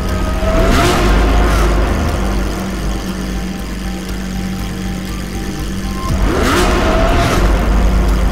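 A Lamborghini engine roars loud and close, swelling in two revving bursts separated by a steady rumbling idle.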